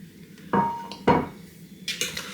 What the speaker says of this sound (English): So pop your bread into your jug